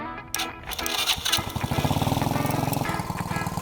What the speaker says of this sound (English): the four-wheeler is working great. It sounds great.